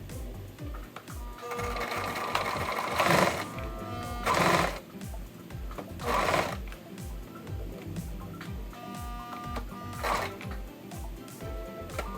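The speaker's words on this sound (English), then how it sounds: "pin it down so that we can make sure that we are sewing the parts evenly" A sewing machine stitches costume fabric in rapid, regular needle bursts, running in several close runs separated by short pauses, with no speech over it.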